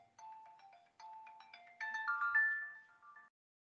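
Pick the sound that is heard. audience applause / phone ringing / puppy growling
phone ringing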